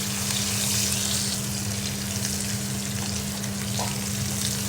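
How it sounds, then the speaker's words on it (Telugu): Tender ivy gourds fry in a pan with a loud, dense, continuous sizzle and crackle that holds steady for several seconds, close up, with no voices. "ఇవి వేగుతూ ఉంటాయి"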